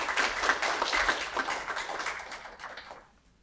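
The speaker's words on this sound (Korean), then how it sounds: "박수 부탁드립니다." A crowd claps for an award at the 2021 Shinhyup credit union performance ceremony, brisk, close applause from many hands that holds steady and then quickly dies away into silence.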